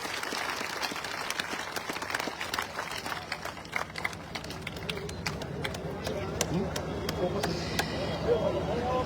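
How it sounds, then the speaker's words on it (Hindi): At a packed election rally for two political leaders, a crowd claps to welcome them, scattered at first and then growing fuller and louder, heard from some distance over general crowd noise. "इनके लिए एक बार जोर से स्वागत के लिए तालियां बजाएं"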